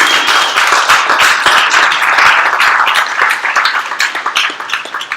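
An audience applauding after a technical talk on JavaScript and web design, dense loud clapping from many people that holds strong and then thins into scattered claps toward the end.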